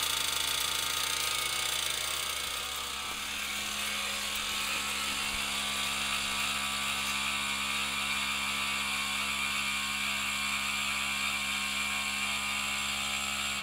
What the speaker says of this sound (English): this is an air ride system that you can utilize to pump up the back of the bike, and this is obviously pumping it up